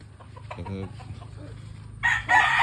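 A rooster crows loudly near the end, after a short stretch of quiet background rumble.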